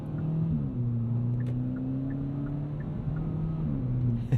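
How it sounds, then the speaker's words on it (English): Engine drone of a 2022 Kia Forte GT with its seven-speed dual-clutch automatic, holding steady pitch and then dropping at shifts around one and three seconds, each gear change marked by a faint pop. The car is close and loud, with no talking. "And you do get little farts from that DCT"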